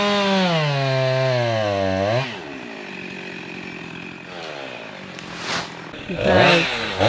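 A chainsaw cuts through a eucalyptus tree, its engine revving high and loud, then dropping to a steadier idle-like drone before surging again near the end; speech is faintly present.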